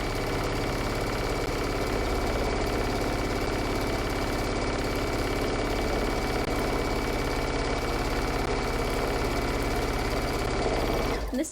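Electric sewing machine stitching both side seams of a fabric bunny bag, a steady continuous motor whir with even needle clatter running the whole time, close and fairly loud, with no talk over it.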